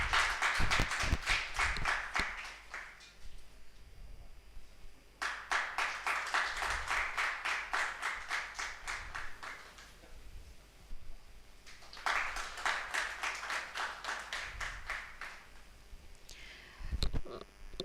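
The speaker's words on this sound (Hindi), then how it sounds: "तो एक बार जोरदार तालियां।" Audience clapping at a lecture-series event in India, coming in three sustained bursts of dense applause separated by quieter pauses, fairly distant and roomy, with no talk over it.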